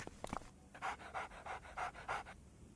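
Dog panting close by, a quick run of rhythmic breathy huffs, about six evenly spaced breaths after a few brief opening sounds, quiet and alone.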